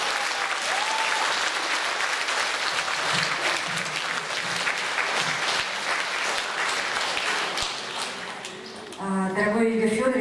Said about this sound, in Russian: поэтому спасибо, аплодисменты ваши